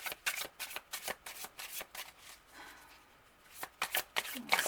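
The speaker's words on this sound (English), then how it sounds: "Let's go ahead and pull the cards." Tarot cards being shuffled and pulled, with quick papery riffles and flicks in rapid bursts, fairly quiet and close, with a brief lull mid-way.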